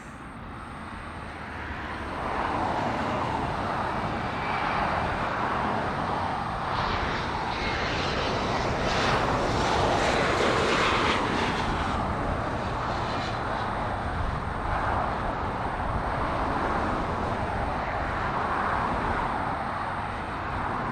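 A Southwest Airlines airliner at LAX roars steadily and loudly for the whole stretch, the engine noise swelling after a quiet start and holding broad and close with a slight peak midway before easing.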